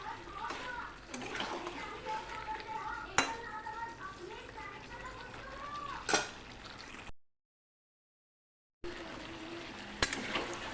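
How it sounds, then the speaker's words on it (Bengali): Chicken meat frying uncovered in a pan, a steady close sizzle with occasional stirring clatter under a person talking, broken by a short silent gap. "এবার আর ঢাকবো না, খোলা অবস্থায় মাংসটাকে আমি একটু কষাবো।"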